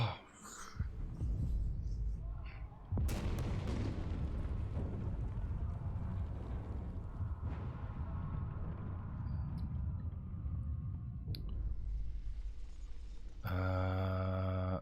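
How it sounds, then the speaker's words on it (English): A video-game explosion in a generator's foundation sets off a tunnel collapse: a deep booming blast followed by a long, heavy rumbling roar of debris. The sound ends on a clear tonal chime, with no talking. "explosion in the generator's foundation caused a tunnel collapse, trapping several workers"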